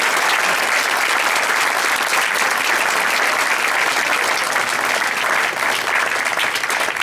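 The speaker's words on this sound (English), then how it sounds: "Give yourself a tremendous round of applause." Sustained, loud applause from an audience at a fundraising benefit auction fills the space, a dense, steady wash of clapping from start to finish with no voices rising above it.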